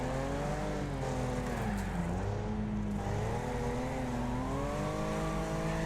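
Race car engines roaring continuously in Wreckfest online racing, a dense, loud drone of several cars revving and shifting pitch through a corner, with no talk.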